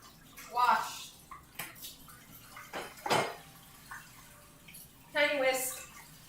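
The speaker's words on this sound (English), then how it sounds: "I'm washing all the tiny utensils" Tiny kitchen utensils, a small bowl and whisk, washed under running water: soft splashing and clinks in bursts, with a voice talking over it.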